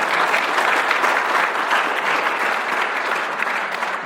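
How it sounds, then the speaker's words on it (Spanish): A church congregation bursts into sustained applause during a memorial service, a dense, loud wash of many hands clapping that holds steady for several seconds with no voices on top. "¿Cuántos dan un aplauso al Señor?"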